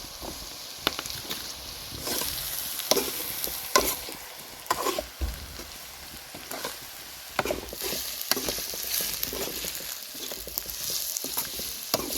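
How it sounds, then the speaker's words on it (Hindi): Cabbage and other vegetables fry and sizzle in a pan, with steady hissing broken by repeated scraping and stirring clatters from a spatula, fairly close. "इसमें अभी आएगी गोभी, पत्ता गोभी, इसको भी हम फ्राई कर लेंगे इन बाकी सब्जियों के साथ"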